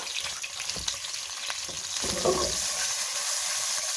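Cumin seeds fry in hot ghee with a steady close sizzle that swells louder partway through, with a few stirring scrapes and no talking.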